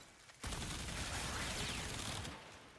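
A Perigale Prime rifle in a video game fires a sustained, rapid magazine-emptying burst, a loud dense stream of shots that starts abruptly after a brief lull and runs steadily for about two seconds before tapering.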